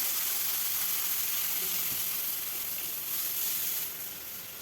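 Kulthi lentil dal hitting a hot pan with ginger already frying, giving a steady broadband sizzle that holds evenly and eases off slightly toward the end, with no talking.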